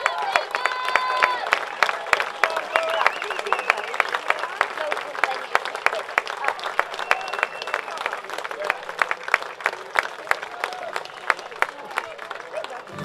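Crowd at a baseball championship game, the Northwest Regional, cheers and applauds a departing pitcher, steady sustained clapping with distant voices throughout, moderately loud and continuous.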